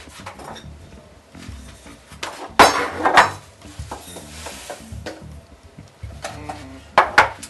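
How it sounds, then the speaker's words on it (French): A saucepan clanks and scrapes in a quiet kitchen, with a few sharp metallic knocks spaced irregularly, close by. "On prend une casserole."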